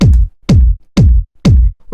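A big, fat, deep 909-style layered kick drum hits four times at a steady, evenly spaced pulse, each thump loud and booming with a quick pitch drop, heard alone.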